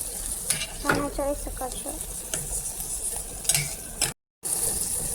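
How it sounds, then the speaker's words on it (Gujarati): A spoon scrapes and stirs tomato into masala frying in a pan, with a rhythmic clatter of stirring over a steady sizzle, a brief spoken phrase, and a short dropout near the end. "ટમેટું મેં પણ સરખું મિક્સ કરી આવી રીતે સરખું મિક્સ કરી દેવાનું."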